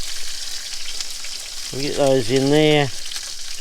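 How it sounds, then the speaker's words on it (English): Food fries in a pan at the back of a houseboat with a steady, broad crackling sizzle that runs throughout, while someone speaks briefly over it. "got a bit of a sizzle going up"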